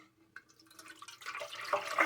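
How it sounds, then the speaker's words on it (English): Water pours into a bread machine pan, starting with a few faint drips and building into a steady, brighter splashing stream that grows louder toward the end, close by. "Now we're going to add the liquid ingredients in."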